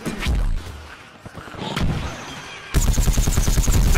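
Gunfire and explosions from Plants vs. Zombies: Garden Warfare burst loudly, with scattered heavy shots early on, then a rapid, sustained volley of rhythmic firing in the last second and a half.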